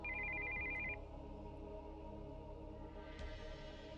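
A cell phone's incoming-call ring sounds as a single sustained electronic tone just under a second long, quiet against a steady low hum, then stops.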